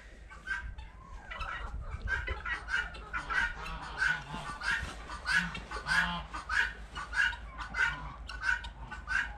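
Poultry call repeatedly in a rhythmic series of loud, nasal honk-like squawks, close by, with some low background rustle.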